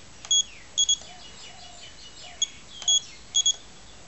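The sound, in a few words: long beep from Sanwa MT4 radio transmitter timer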